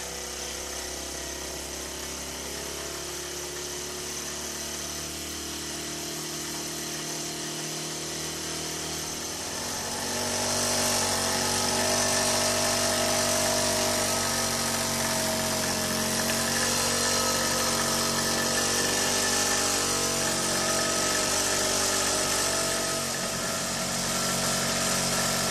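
A 1978 Mamod Minor 2 toy steam engine running, a soft steady hum and hiss that swells noticeably about ten seconds in and then continues as an even, fairly faint mechanical whir.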